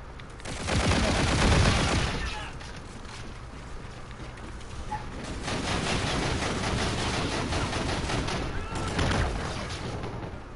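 Bursts of gunfire from a Call of Duty: Infinite Warfare online match, a loud volley early followed by sustained rattling shots and booms, with players talking over the action.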